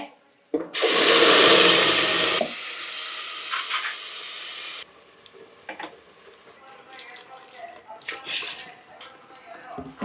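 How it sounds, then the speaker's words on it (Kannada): Curry leaves hit hot oil in a pan for ridge gourd and chana dal kootu, giving a loud burst of crackling sizzle that eases into a lower hiss, then gives way to quieter clinks and stirring, with talk through it. "ಕರ್ಬೇವಿನ ಸೊಪ್ಪು ಹಾಕ್ತಾ ಇದ್ದೀನಿ"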